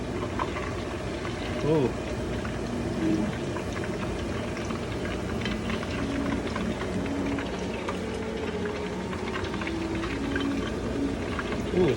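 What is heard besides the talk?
food frying in hot beef tallow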